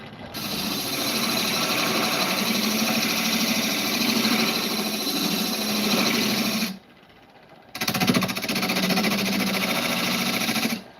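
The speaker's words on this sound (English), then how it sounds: "I like to take my angled skew" An angled skew chisel works a piece spinning on a woodturning lathe, a loud, close, steady buzzing whir that cuts out briefly for about a second before resuming.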